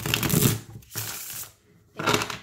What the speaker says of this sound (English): And they do shuffle beautifully.